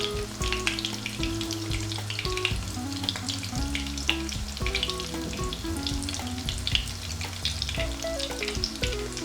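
Aloo tikki, potato and pea patties, sizzle steadily in a pan over medium heat with dense crackling spatter, close and continuous, alongside occasional light clinks and taps of a utensil.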